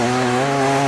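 Fuel-injected TBI 500cc two-stroke enduro motorcycle engine running steadily at a constant pitch, loud and close, with a strong buzzing tone throughout and no talk.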